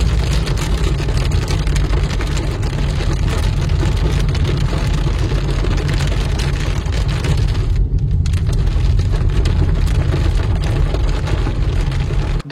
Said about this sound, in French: je me suis retrouvé face à de la grêle